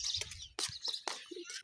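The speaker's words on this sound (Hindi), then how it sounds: "ये कौवे तो तंग नहीं करते हैं ना डॉग को।" Crows give short harsh calls near a dog being fed outdoors, several brief bursts in quick succession.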